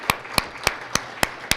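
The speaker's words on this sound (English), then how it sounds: "round of applause" Six sharp, evenly spaced claps ring out for a city representative at a Corona community morning event, each crisp and distinct with a short gap between them. No crowd roar is present.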